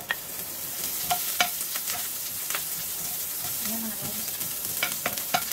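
Chopped onions sizzle in hot oil for chicken feet adobo, a steady crackling hiss broken by sharp clinks and scrapes of a stirring utensil against the pan, with a brief spoken remark in between.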